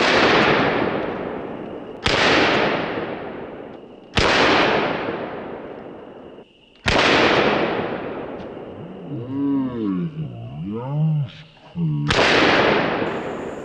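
Thompson submachine gun fired in several short, loud bursts at red, white and blue targets outdoors, each burst ringing off sharply, with a person talking briefly between shots.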